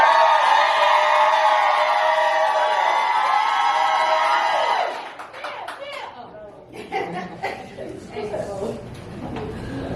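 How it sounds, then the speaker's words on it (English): Slam poetry audience cheering, clapping and whooping loudly for a poet for about five seconds, then the roar drops to scattered shouts, laughter and chatter from the crowd. "The poet with the best applause wins."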